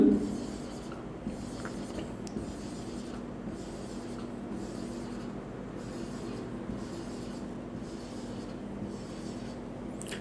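Pen drawing a stomach histology diagram, steady scratchy writing strokes running continuously and close up under a low background hum, with no talking.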